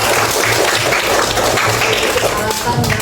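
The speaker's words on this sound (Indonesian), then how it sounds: "Oke, luar biasa, tepuk tangan" A classroom of students claps loudly and steadily in a close, dense burst of applause, with talk mixed in beneath it.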